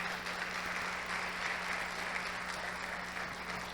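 A church congregation applauds with quiet, distant, steady clapping under a low hum, with no voices.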